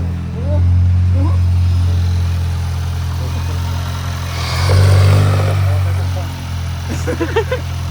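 A 2019 Volkswagen Jetta GLI engine idling with a low hum and then revving up twice to a louder roar before settling, close by, with people talking over it.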